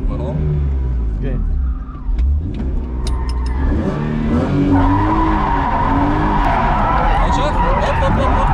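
A car drifting through a donut, tires skidding and squealing under a revving mid-range engine, loud and close, with people talking over it.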